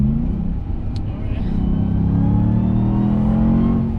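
A RAM TRX pickup truck's engine at wide open throttle, a loud, steady low rumble and roar that holds and builds through the whole stretch, with a voice talking over it.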